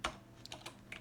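Quiet typing on a computer keyboard while entering JavaScript code for a password generator, a quick irregular run of soft key clicks with no voices.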